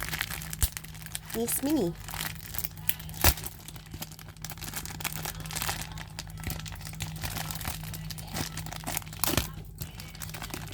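Plastic packaging crinkles and crackles in short bursts while being handled, close up, with a person talking briefly partway through.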